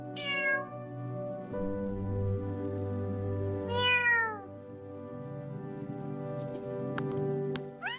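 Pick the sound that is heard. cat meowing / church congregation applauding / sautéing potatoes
cat meowing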